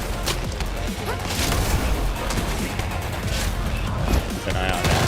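Dense overlapping gunfire and impacts in the shooter video game The Division 2, a loud continuous barrage of shots with no clear talk.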